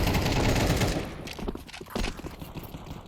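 Rapid gunfire from a Counter-Strike match rattles loud and dense for the first second, then gives way to scattered, sharper shots and impacts that keep popping irregularly to the end.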